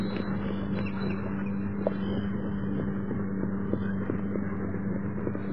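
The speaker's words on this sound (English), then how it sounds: "This sound is purposefully created. Yes. Just to show that he has a motorcycle." A motorcycle engine drones steadily and fairly loudly throughout, a continuous low hum with slight wind-like rumble and no pauses.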